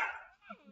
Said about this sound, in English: those puppies are loud